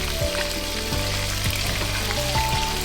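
Chicken and bitter gourd fry loudly in hot oil in a pan, a dense continuous sizzle heard up close, with a few soft clinks of a spoon and no voices.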